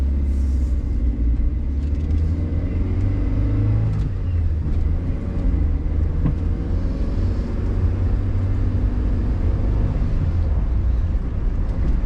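A steady low engine rumble and road noise from a 1996 Nissan Rasheen cruising smoothly and quietly, continuous throughout with no voices.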